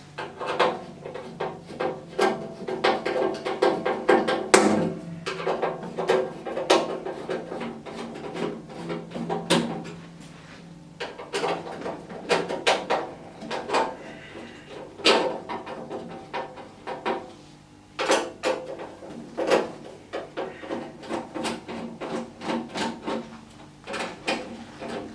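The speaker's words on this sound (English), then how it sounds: "use a posi drive screwdriver and undo the 4 retaining screws in each corner" A Pozidriv screwdriver undoes the four corner retaining screws on the front panel of an oil-tank unit. Repeated sharp clicks and ratcheting turns with scraping and creaking come close up and fairly loud, with short pauses between screws and no talk.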